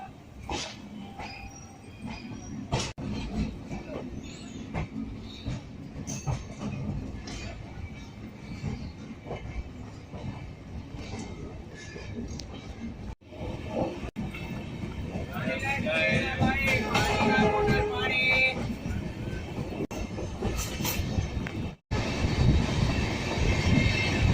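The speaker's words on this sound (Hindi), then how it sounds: "बिल्कुल राइट टाइम 8:30 पर हमारी ट्रेन का यहाँ से डिपार्चर हो चुका है।" The Suhaildev Superfast Express passenger train runs from Ghazipur City toward Ghaziabad, with a continuous rumble and wheel clatter that grows louder partway through and voices nearby.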